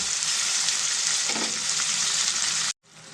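Tomatoes with masala fry loudly in a pan for a mutton tomato curry, a dense steady sizzle with a brief stir partway through, cutting off abruptly near the end before a softer sizzle resumes.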